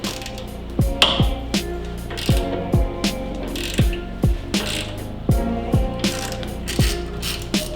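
Ratchet clicking in irregular bursts of strokes, close and loud, as a rusty bolt on the lower radiator support of a Volkswagen Corrado is undone, with no one talking.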